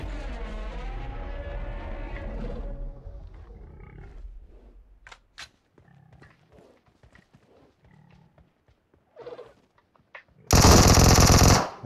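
Gunfire from shooting enemies in PUBG Mobile: an opening stretch of rumbling noise, scattered sharp clicks and thuds, then a loud sustained burst of automatic fire near the end.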